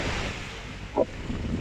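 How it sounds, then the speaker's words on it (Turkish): Steady, low roaring wind on a mountain trail at Uludağ, Turkey, buffets the microphone throughout, with a brief gust or thump in the middle. "Çok deli bir rüzgar var."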